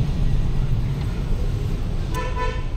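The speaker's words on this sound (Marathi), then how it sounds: "हायवेला नुसतं ट्रॅफिक, दर 2 मिनिटांनी सिग्नलला थांबतोय आम्ही लोक" Dense highway traffic with a constant low rumble of engines close by, then a short horn toot and a sustained honk near the end.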